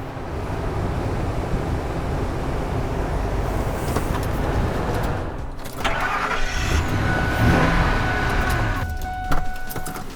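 A 2001 Ford F150 truck with rear-end damage being driven forward and backward, with a low rumbling engine and mechanical clunks and rattles mixed with background noise, moderately close and without talk.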